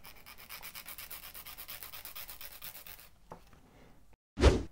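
Gel or acrylic nail being filed with a nail file, a rapid rhythmic rasping of even back-and-forth strokes for about three seconds, close up, then stopping, followed by a brief knock.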